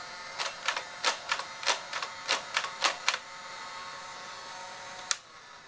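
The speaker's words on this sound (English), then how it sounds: "you can use your motorized blaster right here. You can fire that bad boy up" Motorized Nerf blaster firing foam darts: a quick run of about ten sharp mechanical bursts at a steady rhythm, close and fairly loud in a quiet room, then a pause and one final shot.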